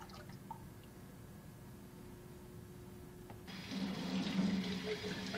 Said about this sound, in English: Rinse out the spray can.